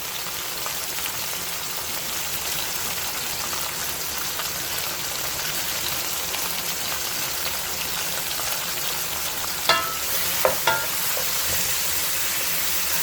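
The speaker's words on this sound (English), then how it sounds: "So we're just going to saute this a little bit" Steady sizzling and crackling of cow foot sauteing in a pot, continuous throughout, with a few sharp clinks of utensils near the end.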